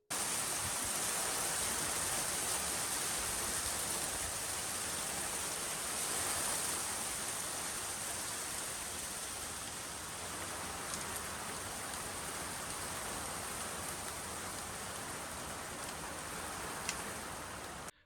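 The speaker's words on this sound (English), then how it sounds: "It's pouring rain." Steady, dense rain pouring down, a continuous broadband hiss with no voices, holding level throughout.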